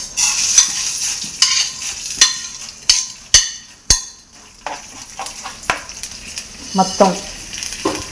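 Urad dal, coriander seeds and cumin frying in a pan for cabbage coconut chutney, a quiet sizzle under a series of sharp spoon scrapes and clinks against the pan, with a brief word spoken.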